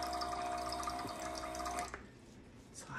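Water running into a bottle from a tap, a steady pouring and filling sound for about two seconds that then stops, leaving quieter drips and faint room noise.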